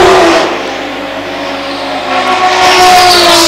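A Ferrari race car roaring past at an endurance race, a loud, steady engine howl that dips a little and then swells back as the car closes in, with a whining pitch climbing near the end.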